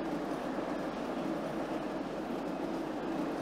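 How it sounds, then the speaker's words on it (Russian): A metro train in the Cities Skylines video game rolls into a tunnel, giving a steady, even rumble and hiss of rail noise with no breaks, fairly quiet and continuous throughout. "И вот мы с вами въезжаем в туннель метро."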